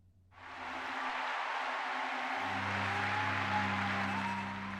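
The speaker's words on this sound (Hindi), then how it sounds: "वीरदास के शो में ये तालियों की गड़गड़ाहट उसी भारत के लिए है" Sustained applause from an audience at a Vir Das comedy show, a dense, steady roar of clapping that swells in quickly and holds at full strength, with a low hum running underneath.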